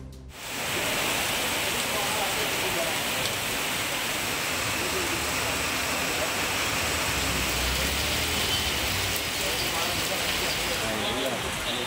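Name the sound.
heavy rain pouring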